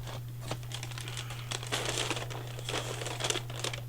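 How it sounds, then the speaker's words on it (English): An extra crinkly bag is handled, giving irregular bursts of crackling and rustling plastic, close and fairly loud, with a steady low electrical hum underneath and no talking. "So this bag, which is extra crinkly"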